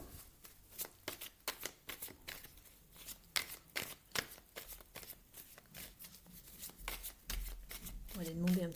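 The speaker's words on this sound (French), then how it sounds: "je remélange bien le jeu pour vous" A deck of tarot cards is shuffled by hand in a rapid series of crisp riffling slaps and flutters, close and quiet, with a voice speaking briefly at the end.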